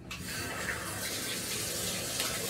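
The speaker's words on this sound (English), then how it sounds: "I'm gonna start the shower real quick," Shower water running, a soft steady rushing hiss heard fairly faint and continuous.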